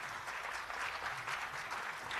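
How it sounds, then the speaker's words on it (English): An audience claps for a panel at a transport ministers' event, a steady, dense round of applause that runs throughout at an even, moderate level with no talk over it. "A thank you to the panel by way of clapping hands."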